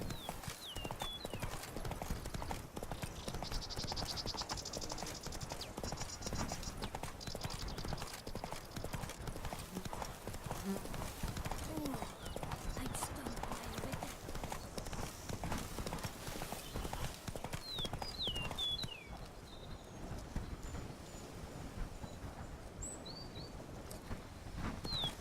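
Hooves clip-clop steadily as a horse gallops in The Witcher 3, a fast continuous rhythm with faint bird calls in the background and a brief voice urging the horse on.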